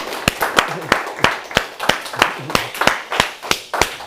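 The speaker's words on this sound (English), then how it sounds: "let's just make sure we give him a huge round of applause too" Audience claps for Mike in a single clear rhythmic run of sharp, evenly spaced claps, loud and close, sounding more like a small group or one clapper than a full crowd.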